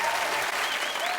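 Studio audience applause at a comedy game show finale, a dense, even round of clapping from a crowd heard clearly throughout the short moment.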